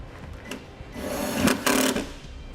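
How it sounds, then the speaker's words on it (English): A drill drives a self-tapping screw into a 2006 Scion tC to secure a ground wire for a trailer wiring kit, making a brief close whirring burst that rises, pauses, then whirs again. "we'll secure it into place using our self-tapping screw."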